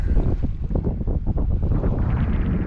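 Sailing catamaran under sail heading toward a channel in Gorda Sound, with strong buffeting wind over the microphone and rushing water along the hulls.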